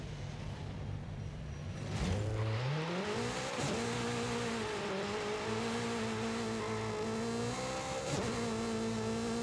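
A Honda Prelude engine in Forza Horizon 5 racing, a loud buzzing drone that drops on a shift, then revs steadily higher with repeated gear changes, close and continuous, no talk.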